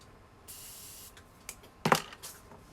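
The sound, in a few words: spraying a makeup brush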